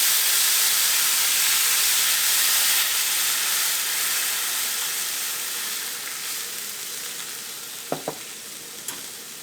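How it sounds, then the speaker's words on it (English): Home-canned beef broth hits a hot pan after a roast is seared, setting off a loud, steady sizzling hiss that slowly fades, followed by a few small clinks near the end. "So this is deglazing the pan."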